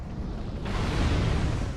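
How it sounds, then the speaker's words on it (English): Explosions from the video game Dark Souls 2 in Brume Tower, a broad rumbling roar that swells after a quiet start and holds steady and loud for nearly two seconds. "Explosions."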